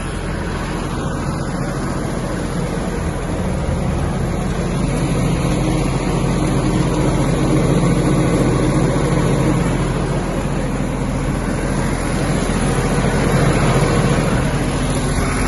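A Kubota GB-180 mini tractor runs steadily in third gear with its PTO engaged, giving a loud, even engine drone with a low rumble and no pauses.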